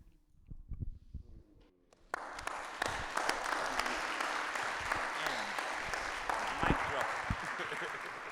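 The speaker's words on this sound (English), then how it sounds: "would you join me in giving another round of applause to Bayo and Nora?" Audience applause after a poem at a live conversation event; a voice talks briefly at the start, then loud, dense clapping erupts and continues steadily to the end.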